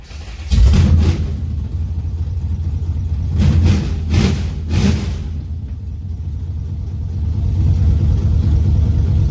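A carbureted car engine cold-starting after a couple of primer pumps: a sharp crank and catch, loud rumbling idle with a few blips of revving, then a steady running drone.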